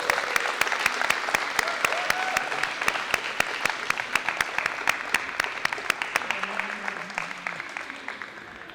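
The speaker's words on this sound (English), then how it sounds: "make a little bit of noise for the men's final" A crowd at a no-gi grappling tournament final applauds with dense, continuous clapping and a few cheers and whoops, steady and fairly close.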